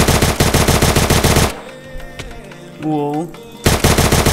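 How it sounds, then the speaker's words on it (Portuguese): Loud rapid automatic gunfire from a Free Fire-style match played in Minecraft, bursts of repeated shots at the start and end with a quieter gap between where a voice exclaims briefly. "Toma esse tiro de MP."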